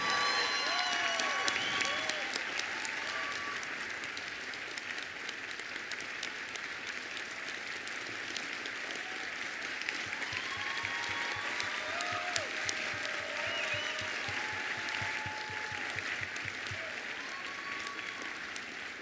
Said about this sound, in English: Can we have a big applause for these girls?